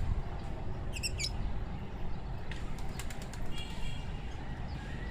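A Lal Shirazi pigeon takes off during outdoor pigeon training in Karachi. Brief wing flaps come through faintly over a steady low rumble, with a few small bird chirps nearby.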